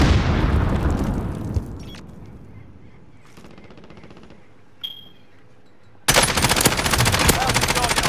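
Video game firefight in a shooter with SMG loadouts: loud dense bursts of automatic gunfire up front, then a quieter stretch with a sharp tonal ping, before a sudden loud eruption of gunfire and blast noise near the end.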